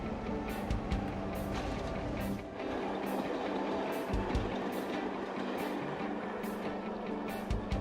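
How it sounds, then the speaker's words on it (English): A steady rolling rumble of a crash-test train rake coasting along rails after release, with faint periodic clicks from the wheels, distant and even. "The train then sets off and picks up the required speed"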